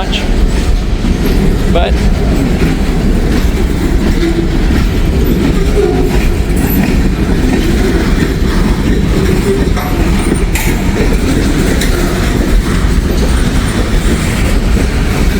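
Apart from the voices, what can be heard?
heavy freight train with 2 locomotives passing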